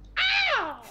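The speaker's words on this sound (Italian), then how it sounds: "sembrava lo strillo del mio gattino" One harsh, shrill screech like a kitten's cry, loud and close, slides downward in pitch over under a second.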